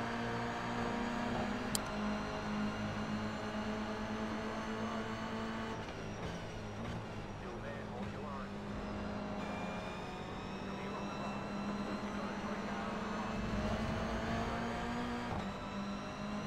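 A Toyota GR 86 race car circles Road Atlanta, its engine droning steadily with a constant tonal whine through the run, holding near and loud without any talk.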